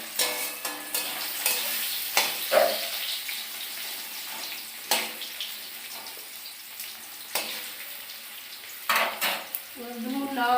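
Potatoes sizzle in a hot pan while a spoon stirs and scrapes them, with irregular clinks of utensil on metal over a constant frying hiss, close and clear.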